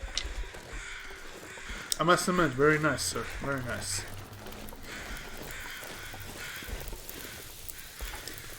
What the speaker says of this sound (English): I heard the crows